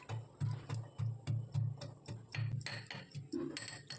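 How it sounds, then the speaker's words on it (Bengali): Garlic cloves are crushed for a Bengali sajna leaf dish, giving a run of sharp, regular pounding knocks, about two per second, close and distinct with short gaps between. "তো জলটা ফুটতে ফুটতে আমি এদিকে রসুনগুলোকেও থেতো করে নিচ্ছি।"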